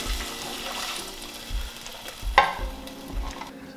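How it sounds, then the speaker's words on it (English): Cooking wine goes into a hot pan while beef Wellington is being made, giving a steady sizzle with scraping stirs and soft clinks, and one brighter splash-like hiss in the middle. No one speaks. "cup of our cooking wine. We're going to add this in."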